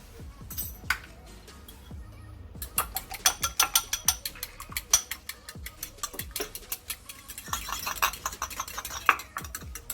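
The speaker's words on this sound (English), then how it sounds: "In a bowl, you're going to add 1 egg and the milk, and then you will mix it together." An egg and milk are whisked together in a bowl, with fast, steady clinking and scraping strokes that repeat close to the mic for the whole stretch.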